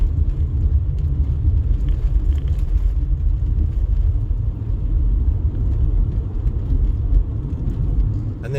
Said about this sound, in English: we have some merging lanes, which always results in traffic slowdowns